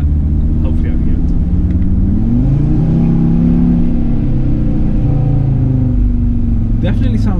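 A 2022 Audi RSQ3 Vorsprung engine while driving, a loud steady low drone that rises and shifts in pitch as it pulls, heard from inside the cabin with talk over it.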